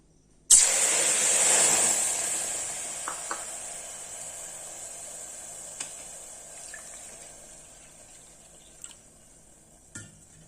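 Water poured into a hot pan of wheat rava hits with a sudden loud hiss that slowly fades into a long simmering sizzle, with a few faint clinks of utensils.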